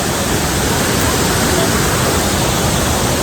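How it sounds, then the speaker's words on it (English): Krang Suri Falls near Dawki in Meghalaya pours with a constant, loud, close rushing roar, an even wash of water noise with no breaks and no voices. "A must-visit waterfall near GOGOI when you plan a trip way to Dawki"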